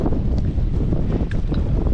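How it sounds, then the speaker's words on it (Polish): Strong wind on Kazbek mountain buffets the microphone in a loud, continuous roar with gusty surges and no talking. "Tutaj już ten wiatr jest mniejszy, ale i tak daje się wyznać."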